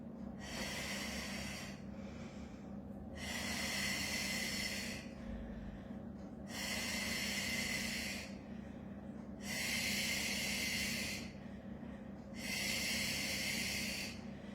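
Breathing during a Pilates ring exercise: five long, loud, close breaths in a slow, even rhythm, airy and hissing, with short quiet gaps between them.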